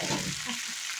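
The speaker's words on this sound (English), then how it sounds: "And let it sizzle." Food sizzles steadily in olive oil in a hot frying pan, a close, crackling hiss with no talking.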